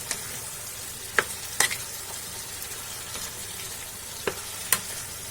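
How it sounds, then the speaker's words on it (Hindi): Garlic-ginger paste is stirred into a sizzling tomato-onion masala for paneer masala, giving a steady frying hiss broken by a few sharp spoon scrapes against the pan. "अब इसमें हम लहसुन अदरक का पेस्ट डालेंगे। इसे भी मिला लेंगे इस तरीके से।"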